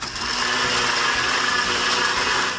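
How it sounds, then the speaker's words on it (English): A conventional kitchen blender runs at full speed, a loud, steady whirring roar that holds even and unbroken from start to finish with no talk over it. "Here's a traditional blender."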